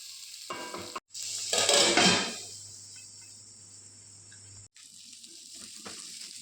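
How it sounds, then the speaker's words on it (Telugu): Chopped onions and coriander drop into hot oil with cumin, a loud burst of sizzling that settles into a quieter, steady fry, with a few stirring scrapes, close and without voices. "కట్ చేసి పెట్టుకున్న ఆనియన్ ముక్కల్ని అండ్ కొత్తిమీరని కూడా వేసుకొని మంచిగా వేగనివ్వాలి"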